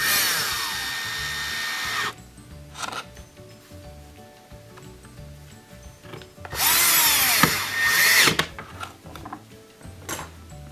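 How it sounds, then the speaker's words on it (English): Power drill driving two Torx 15 screws into a Bosch dishwasher during a water fill valve repair, two loud whirring bursts with a pause between and quieter handling clatter in between. "Then we'll add in the two Torx 15 screws. Get those tight."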